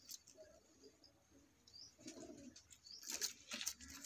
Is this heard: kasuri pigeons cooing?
yes